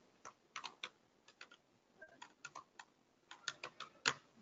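Quiet clicking of a computer keyboard during a 3D graphics lecture, a string of uneven, close keystrokes in short bursts with brief pauses and no talking.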